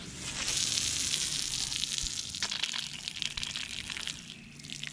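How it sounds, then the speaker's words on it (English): Water gushes steadily out of the lines of a Grand Design Reflection 150 Series fifth-wheel RV during winterizing, a loud hissing rush that gradually thins into a splashing trickle. "that means I can get all this water out"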